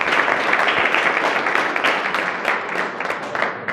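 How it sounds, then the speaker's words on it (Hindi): Loud, dense applause from an audience at a local community programme, steady clapping filling the whole stretch without pause. "एक बार जोरदार ताली उनके लिए"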